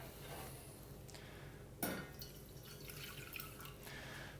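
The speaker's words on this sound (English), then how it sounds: "Water goes in," Water poured into a small saucepan, with a soft trickle and light drips and a sharper splash and clink partway through, faint and close.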